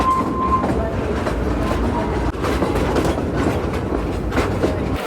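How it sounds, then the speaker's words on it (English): A small tourist train rolls along close by on rails, rhythmic clickety-clack of wheels over a steady rumble, loud and continuous. "it's a very cute little train"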